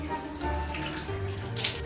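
Shower water runs steadily in a home bathroom, a continuous hiss of spray and splashing with no voices, close and moderately loud throughout.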